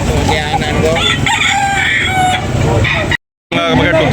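A rooster crows amid the busy din of a Philippine poultry market, loud and close, with overlapping bird calls and clucks, crowd noise and people talking throughout, broken by a brief dropout.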